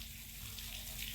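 Water gushing steadily from a farm motor pump at a well on a family field, a constant broadband rush with no voices.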